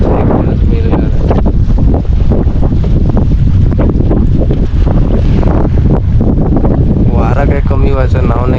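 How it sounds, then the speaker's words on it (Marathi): Strong wind buffets a fishing boat at sea in deep water near the Bandra–Worli Sea Link, a loud, constant roar blasting the microphone alongside water and engine noise, with voices talking beneath it. "वारा काय कमी व्हायचं नाव नाही घेत"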